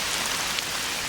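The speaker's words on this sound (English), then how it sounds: "brought to you by the Rain Ambience" Steady rain falling on a surface, a dense even hiss of drops with no breaks, heard alone as a close, fairly loud ambience.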